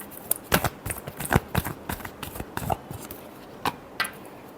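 A tarot deck is shuffled by hand in a steady run of crisp, close card flicks and riffles, with no talking.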